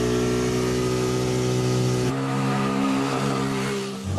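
A 2004 car accelerating hard, its engine roaring loud and steady with a sustained mechanical drone, then shifting abruptly to a different, lower-toned engine note that continues before easing off near the end.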